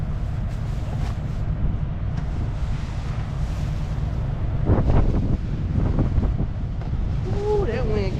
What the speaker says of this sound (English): that wind kind of heavy